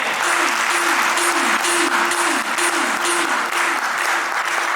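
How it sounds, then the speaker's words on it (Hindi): Loud, sustained audience applause at a health talk on reversing diabetes, a dense wash of many clapping hands, with a repeating synthesized tone sweeping underneath. "डॉक्टर ललित उपाध्याय सर के लिए जोरदार तालियां।"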